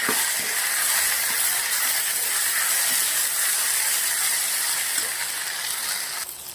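Okra sizzles in a pan after crushed garlic goes in, a loud, steady frying hiss throughout with faint occasional clicks of stirring, no talk.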